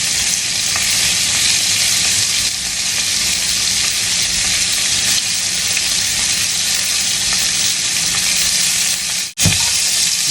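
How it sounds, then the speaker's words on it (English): A pork steak searing in melted butter gives a loud, dense, continuous sizzle close by, steady throughout with one brief dropout near the end, no voices. "And then let it sear on that side."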